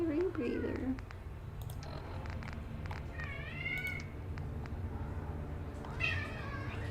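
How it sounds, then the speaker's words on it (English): Kittens in the video game Fallout: London give a few short meows, fairly faint over a steady low background hum of game sound. "Oh, kittens! Be nice,"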